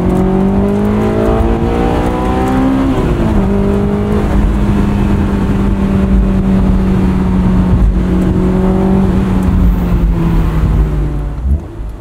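A 2003 Honda S2000 roadster with 19k miles revs and accelerates through the gears from the driver's seat, a loud, continuous engine note rising in pitch, a brief dip at each shift, with tire and road noise underneath.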